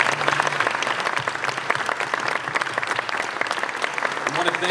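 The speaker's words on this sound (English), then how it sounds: "Give yourselves a round of applause," Sustained applause from an audience at a press conference announcing the NBA All-Star Game in Phoenix, dense steady clapping filling the room at an even level throughout.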